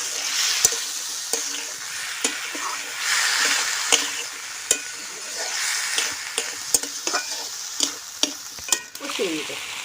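Ash gourd frying and being stirred in a pan, a steady bright sizzle broken by frequent sharp scrapes and clicks of the spatula, close and fairly loud, with no voices.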